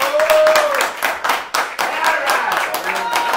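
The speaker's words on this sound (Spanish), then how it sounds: "Un aplauso grande para Gabriel León" A bar audience claps for a guest at a live event, bursts of close hand clapping rising and dipping in waves, with a voice briefly heard over the noise.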